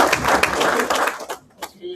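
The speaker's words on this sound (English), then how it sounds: "Please give him a round of applause because he's really done a great job." A round of applause at a CPRA board meeting: a room's clapping rises briefly under a speaking voice, then trails off after about a second and a half.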